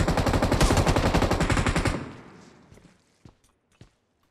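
An MG3 machine gun in a video game fires a loud, rapid continuous burst for about two seconds, then cuts off, leaving a fading tail and a few faint thuds.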